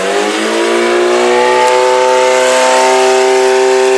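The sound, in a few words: pontoon boat engine revving against rev limiter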